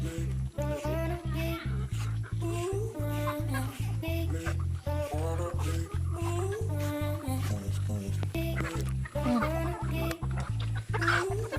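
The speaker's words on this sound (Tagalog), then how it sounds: "So tara, magpakaon na ta sa mga manok." Free-range chickens clucking steadily and close by while being fed a mix of chopped banana trunk and feed, with a continuous low rhythmic background drone and a voice speaking over the flock.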